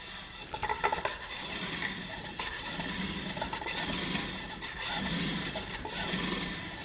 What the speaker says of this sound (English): As I'm getting deeper, I'm finding that it's getting harder to drill.